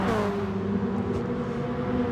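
Gr.4 race cars in a video game race on the final lap at Tokyo Central Outer, engines droning steadily at high revs with layered overlapping tones, loud and continuous throughout.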